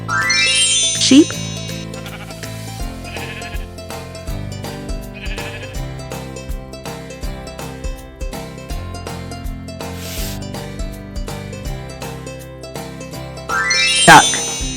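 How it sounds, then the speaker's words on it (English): A sheep bleats a few times over a busy children's music backing with jingles and chimes, the calls mixed in with the tune rather than standing alone. "Sheep."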